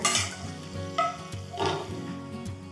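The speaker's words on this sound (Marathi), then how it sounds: "आणि यामध्ये घालायचे 100 ग्रॅम काजू आणि मस्त सोनेरी रंगावर काजू तळून घेऊया" Cashews fry in ghee for dinkache ladoo: a steady close sizzle with a few light stirring scrapes and clinks against the pan, heard alone with no talk.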